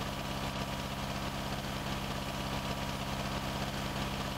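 A T-25 tractor engine in Farming Simulator 19 runs steadily, a close, continuous low diesel chug with an even rhythmic throb and no talk.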